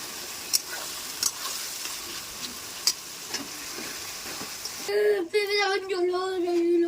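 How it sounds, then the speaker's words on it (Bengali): Dried red chilies and onion crackle and hiss steadily in hot oil in a home kitchen, with a few sharp ticks from stirring, then a tonal whine and clatter join the frying near the end. "তো গরম তেলে শুকনো লঙ্কাটা আর পেঁয়াজটা দিয়ে ভালো করে ফ্রাই করে নেবো।"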